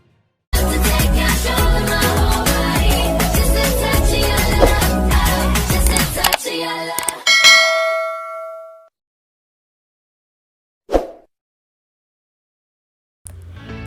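A notification bell ding sound effect rings out clearly after a busy, rhythmic burst of sound, its bright tone decaying slowly, followed by a brief quieter chime and then near silence.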